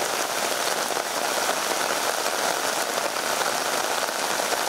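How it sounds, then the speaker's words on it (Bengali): Steady rain pours down, a dense, even hiss of drops on surfaces that stays loud and unbroken throughout, with no voices. "কোথাও কোথাও থেমে থেমে বৃষ্টি হয়েছে ঘণ্টাব্যাপী"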